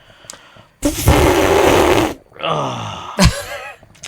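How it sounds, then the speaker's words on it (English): A long, heavy exhale, loud and close, followed by a strained vocal groan and a short breathy sound. "That's me breathing out."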